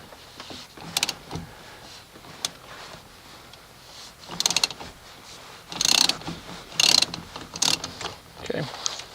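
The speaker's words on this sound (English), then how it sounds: "I'm going to take a 14 millimeter socket, and I'm going to try to do this one-handed." A 14 mm socket on a ratchet works the steering wheel bolt of a 1988-1998 Chevy K1500 pickup, giving short bursts of clicking at varied intervals, close and moderately loud against a quiet background.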